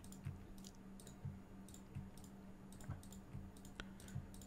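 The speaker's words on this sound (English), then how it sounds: "Furiously clicking." Computer mouse clicked over and over at a steady, fairly quick pace, crisp close clicks over a faint low hum, with no voices.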